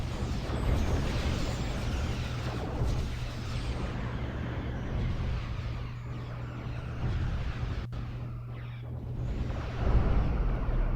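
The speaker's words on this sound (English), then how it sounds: "One hit from the torpedo took out that ship." Torpedo strike destroying an enemy ship in a Cosmoteer space battle, heard as a sustained, loud, rumbling wash of blast noise over a steady low hum, swelling again near the end, with no talking.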